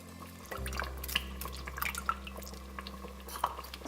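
Tamarind juice strained for a tomato sambar, liquid trickling and dripping steadily with small splashy drops against a low background hum, close and without talk.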